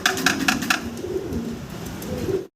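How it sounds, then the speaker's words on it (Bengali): Fillback pigeons in a farm cage coo nearby in a short, continuous burble of low warbling calls that cuts off abruptly. "বেশ কিছু ফিলব্যাক কবুতর আছে, দেখতে পারতেছেন"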